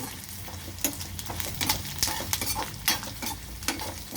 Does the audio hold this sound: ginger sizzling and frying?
yes